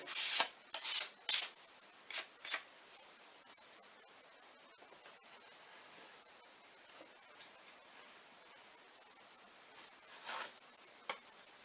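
A filling knife scrapes and spreads filler over a hole in a pipe, with close, gritty rubbing strokes that come in quick bursts at first, then soften into quieter continuous smoothing.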